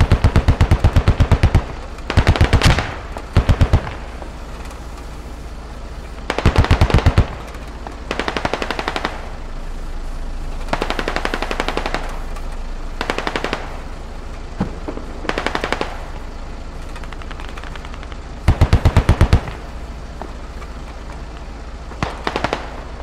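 Bursts of machine gun fire in the military shooter Squad, rapid rattling volleys that come in short and long bursts with pauses between them, loud and close, with distant gunfire in the gaps.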